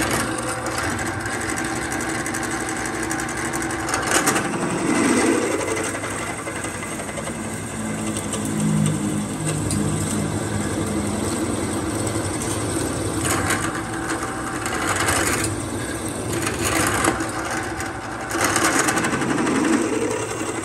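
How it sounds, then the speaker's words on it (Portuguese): Drilling a hole in a car axle stub (ponta de eixo) for lowering a VW Gol G3, a steady high motor whine with grinding surges over a noisy workshop background, continuous and loud without talk. "Vamos furar lá"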